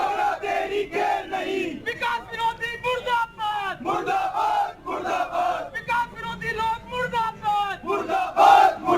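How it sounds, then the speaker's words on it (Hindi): A crowd of BJP workers chants protest slogans in unison, loud and rhythmic, the massed voices rising and falling steadily throughout. "बीजेपी कार्यकर्ताओं ने अशोक डोगरा मुर्दाबाद के नारे भी लगाए"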